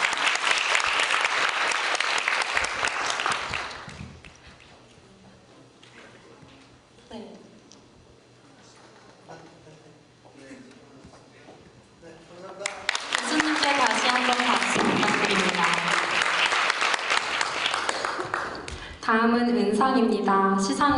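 Audience applause at the award ceremony of the 2019 Sookmyung debate competition final: a burst of clapping, a quieter stretch with voices, then a second long round of applause before speech resumes.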